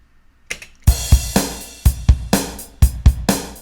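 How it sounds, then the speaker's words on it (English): A programmed drum beat with kick, snare, crash and hi-hat plays alone and upfront. Punchy low kicks and bright snare and cymbal hits fall in a steady groove after a few soft lead-in ticks. "Nice little drum sound."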